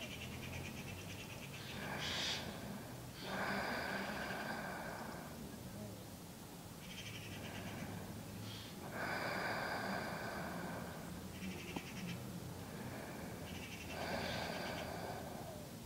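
Slow, deep nasal breathing during a yin yoga session, long airy inhales and exhales in a steady rhythm of about three cycles, close and soft, with low background rumble.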